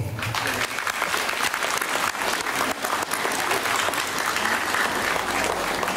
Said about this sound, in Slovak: Privítajme ich teda veľkým potleskom.